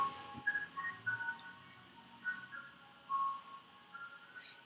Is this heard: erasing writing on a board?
no